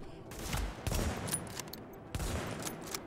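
Automatic gunfire in The Division, heard as several rapid bursts of shots that come through fairly soft and slightly distant, with brief gaps between volleys.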